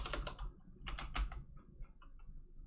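Quick bursts of keystrokes on a computer keyboard, close and fairly quiet, with brief pauses between the clusters of taps.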